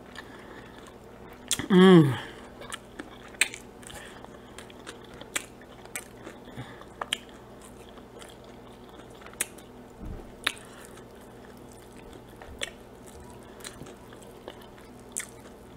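Biting and chewing onion rings with a burger meal: one loud close crunchy bite, then soft wet chewing and small clicks that fade over a long stretch, with a brief murmur of satisfaction.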